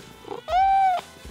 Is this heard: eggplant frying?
no